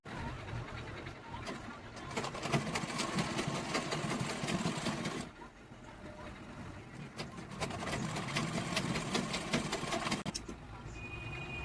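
Electric sewing machine stitching the seams of a cloth bag, a steady close mechanical whirring run for about five seconds, a brief pause, then another long stitching burst.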